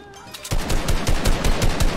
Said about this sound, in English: Oh, this kid's really shotgunning.